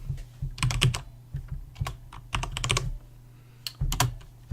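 Close, quick keystrokes on a computer keyboard in irregular bursts of clicks with brief pauses between words, no voices.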